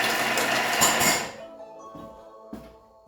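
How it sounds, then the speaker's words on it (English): A Thermomix food processor blitzes garlic and other ingredients at speed 5 in one loud, roaring burst of about a second, then cuts off, leaving a quiet kitchen with a faint knock afterward. "For 3 seconds, speed 5 is going to chop all those ingredients."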